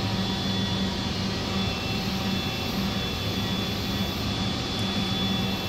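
A Mazak Variaxis C-600 CNC machine roughs out a pocket with a half-inch end mill spinning at 11,500 RPM, giving a constant, dense machining roar with a thin steady whine that runs unbroken throughout.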